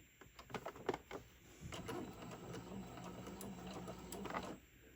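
A sewing machine stitches fabric for decorative tissue pack covers, a steady mechanical whir of rapid needle strokes running for several seconds after a few lighter taps, fairly close and moderate in volume.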